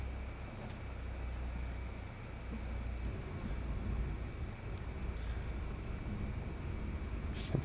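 A small plane's engine drones low and steady with wind rush as it lands in the X-Plane 11 flight simulator game, a continuous quiet rumble with no talk.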